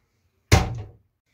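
A single solid thunk of a cabin door closing aboard a 2007 Bavaria 37 Cruiser sailing yacht, close and alone, with a short decay into silence.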